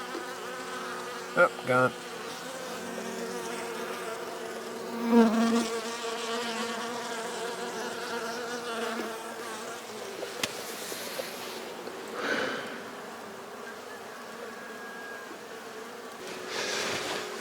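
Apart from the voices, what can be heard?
honeybees buzzing near backyard hive in winter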